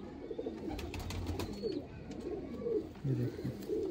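Pigeons coo repeatedly in soft, low rolling calls close by, with light rustling and a faint voice in the background.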